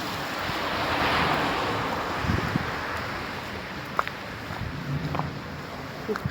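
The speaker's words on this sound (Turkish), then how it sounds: "Suyun sesini çok severim. Böyle akıyor su." Water runs steadily from a village fountain outdoors, a continuous broad wash of flowing water with faint wind noise and a few small splashes.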